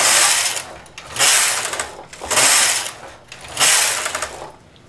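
A knitting machine carriage swishes loudly back and forth across the needle bed four times in steady, even strokes, close up with no talking.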